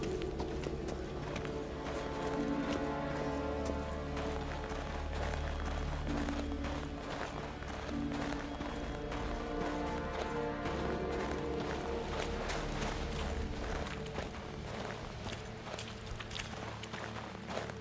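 Horse hooves galloping in a video game, a rapid continuous clip-clop rhythm over a dense background, loud and close, no voices.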